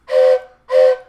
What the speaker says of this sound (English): secretly I have a train whistle in my pocket